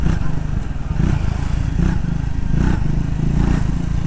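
A 2025 Triumph Speed T4 motorcycle being ridden, its deep bassy exhaust thumping steadily with rhythmic pulses and mechanical clatter, close and loud with no talking.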